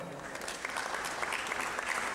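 Audience applause at a corporate awards announcement for a diversity study, a steady wash of many hands clapping at moderate level, with no speech over it.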